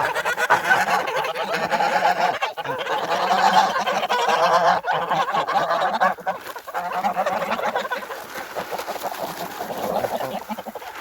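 Domestic geese in a farmyard flock honk and cackle continuously, a dense noisy chorus close by, with chickens feeding nearby.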